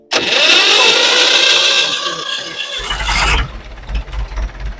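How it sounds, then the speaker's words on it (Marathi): The engine of a 1964 Russian tractor is cranked on its starter, a loud whirring and churning that runs for a few seconds before it drops into a lower rumble. "ट्रॅक्टर उभा असल्यामुळं आता स्टार्टर लावून चालू करणार"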